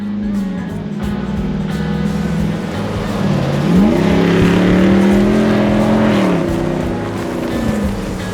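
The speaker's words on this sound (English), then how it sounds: "it's always important to make sure it accelerates good" A Jeep with a 392 engine on 40-inch tires accelerates hard, its engine note steady at first, then climbing loudly around the midpoint and holding a strong rising roar before easing slightly.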